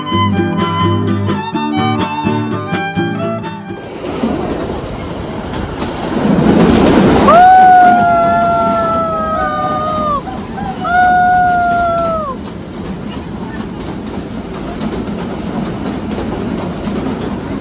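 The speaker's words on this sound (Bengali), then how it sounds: "টয় ট্রেনে যাচ্ছি আর দূরে বরফের" The Shimla toy train, the Himdarshan Express, runs on rails with a steady clickety-clack, close and loud, broken by two long wheel squeals, after a brief burst of music at the start.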